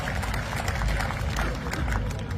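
Audience at a Hindi kavi sammelan poetry gathering in Barmer claps to welcome a poet, a dense steady wash of applause from a large crowd, moderately loud and continuous throughout.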